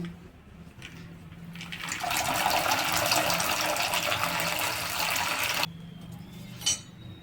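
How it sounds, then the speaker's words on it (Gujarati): Two glasses of sour buttermilk pour into a pot of peanuts in salted water, a steady, close gushing splash lasting about three and a half seconds, then stopping abruptly, with a faint clink afterward. "તેમાં બે ગ્લાસ ખાટી છાશ નાખશું"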